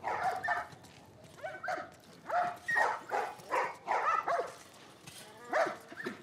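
Dogs bark repeatedly in The Last of Us Part I, a string of sharp, evenly spaced barks and yips at moderate distance, with some faint game voices underneath.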